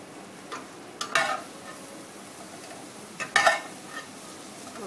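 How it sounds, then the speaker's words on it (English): Prawns sizzle quietly in a Happy Call pan, with two short bursts of stirring and scraping, no voices. "sizzling prawns"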